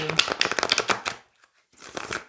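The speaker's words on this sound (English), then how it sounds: "So I'll just give a good shuffle now." A deck of oracle cards shuffled by hand in a short run of rapid, crisp riffling flicks, a brief pause, then another burst of shuffling, close and fairly loud with no talk.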